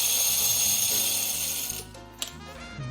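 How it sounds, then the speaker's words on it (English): A coffee grinder grinds a measured dose of coffee beans, a steady close whirring buzz that runs continuously, with a small clatter partway through and the motor note shifting near the end. "So, just put in the grinder."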